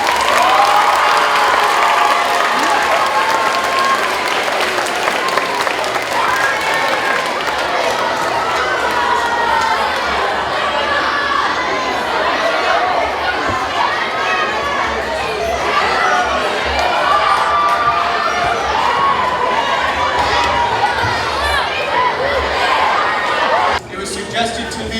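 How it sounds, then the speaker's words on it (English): A school audience at a reading closing ceremony claps and cheers loudly for a long stretch, with children shouting and excited chatter mixed into the sustained roar before it cuts off near the end. "Let's give a final round of applause"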